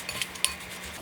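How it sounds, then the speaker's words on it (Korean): A spoon stirs seasoning sauce for Korean japchae in a bowl, giving a few light, close clinks and scrapes of metal on dish. "지금 양념장을 섞어줍니다"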